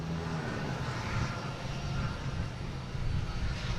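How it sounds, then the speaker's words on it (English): A Cape Air commuter plane arriving at Boston Logan International Airport makes a steady, loud engine drone that holds throughout with slight swells, heard alone with no voices. "Got a Cape Air making a bunch of noise coming in."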